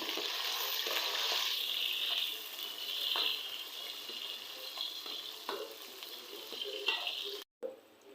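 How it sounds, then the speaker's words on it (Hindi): Onion, garlic and ginger sizzle in a hot pan, a steady hiss with occasional stirring scrapes and clinks, close up and fairly quiet. "चलिए प्याज और लहसुन अदरक वगैरह फ्राई हो चुका है।"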